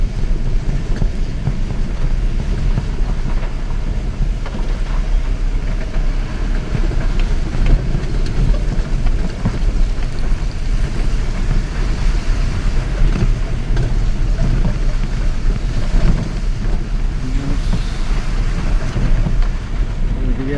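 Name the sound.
storm wind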